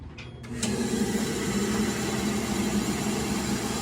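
An engine catches after a brief quiet moment and settles into a steady, loud idle with constant mechanical vibration, heard alone for several seconds.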